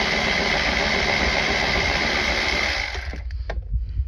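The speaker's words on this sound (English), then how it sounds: "got a 16 millimeter on the auto ratchet" A 16 mm socket on an auto ratchet whirs steadily at close range while backing out rear strut bolts on a 2012 Dodge Charger, then stops abruptly and is followed by a few light clicks and knocks.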